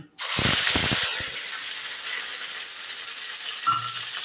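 Onion paste dropped into hot oil with whole garam masala and cumin seeds bursts into a loud, sudden hiss that settles into a steady close sizzle, with a faint clink near the end, while making chicken do pyaza.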